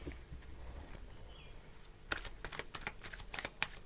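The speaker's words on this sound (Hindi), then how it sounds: "लास्ट शफल कर लेते हैं और एक बार" Tarot cards being shuffled by hand, a quick flurry of crisp riffling flicks that starts partway through after a quiet stretch, close and fairly soft, with no talking.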